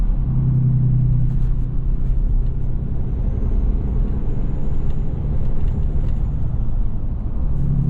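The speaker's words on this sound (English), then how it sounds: "You can really hear the turbo whistle." A heavy-duty diesel truck engine rumbles loudly and steadily nearby, with a thin turbo whistle rising faintly above the drone midway through.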